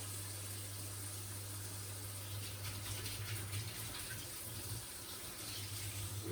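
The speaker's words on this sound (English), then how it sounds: "So while I wait, I can quickly wash the flipper, or whatever you call it." Tap water runs steadily as a pancake flipper is rinsed at a kitchen sink while ricotta pancakes cook, a continuous even splashing with a low hum beneath and no talk.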